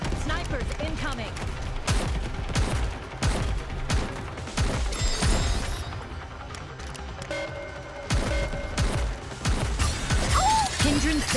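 Dense bursts of overlapping gunfire from many weapons firing at once in the Nikke shooter game, with sharp repeated shots and clatter running under intermittent character voices.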